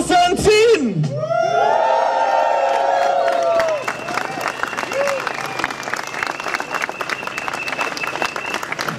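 Loud, sustained crowd applause with cheering and whoops fills an outdoor anti-TTIP protest rally on Braunschweiger Platz, continuing steadily after a brief electronic sound at the start.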